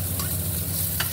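Very hot oil sizzles in a cooking pan, a steady close frying hiss with a low hum beneath and a couple of brief spits, no talk.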